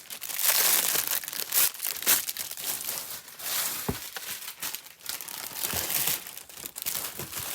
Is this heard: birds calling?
no